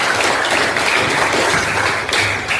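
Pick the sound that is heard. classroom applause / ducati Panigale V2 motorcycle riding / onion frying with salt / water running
classroom applause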